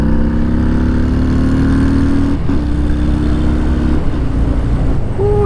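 A 2019 Harley-Davidson FXDR motorcycle engine rumbles loudly up close, holding a steady revving tone that dips and climbs again, with no talking.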